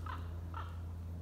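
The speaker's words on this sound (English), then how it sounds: "Something flying, that is. Could be a crow." A crow calling outdoors on a muddy foreshore, two short caws about half a second apart, distant and faint over a steady low hum.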